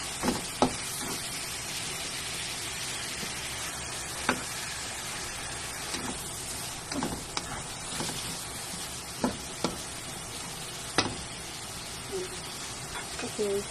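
Chop suey vegetables sizzle and fry steadily in a pan while being stirred, with scattered scraping clicks of the utensil over the continuous hiss, close and fairly loud.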